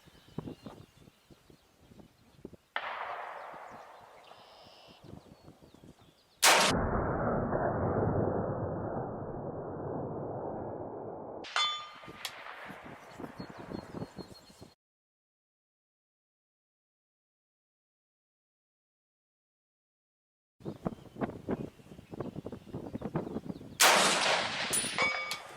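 An M-1 National Match rifle fired at a target range: a few sharp, isolated shots spaced many seconds apart, separated by stretches of noise and silence.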